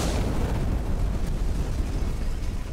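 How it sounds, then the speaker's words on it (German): The Block 4 reactor explosion at Chernobyl, 26 April 1986, is rendered as a dense, continuous roaring rumble. It stays loud and steady throughout with no pauses. "dem Moment, in dem Block 4 explodierte"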